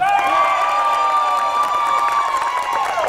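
An audience claps and cheers for a contestant, a dense, steady wash of applause, whoops and shouting voices filling the whole stretch.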